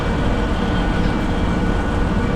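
A train rolls along in the Derail Valley game, a loud, steady broadband roar and rumble with a faint high whine, continuous and close, with no talking.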